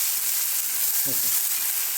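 Gravy sizzles in an iron wok as it is stirred slowly, a steady hissing fry with a few soft scraping strokes partway through.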